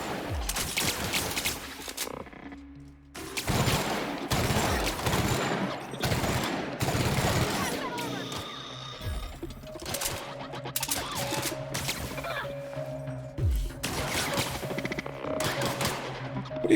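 Gunfire in the video game The Outer Worlds, with loud bursts of rapid shots arriving in several separate volleys across the stretch, between quieter gaps filled with faint ambient tones.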